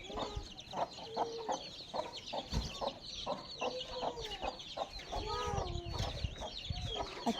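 Chickens cluck in a steady, busy stream of short calls, fairly close and moderately loud, with a few sharper squawks mixed in and no clear talk over them.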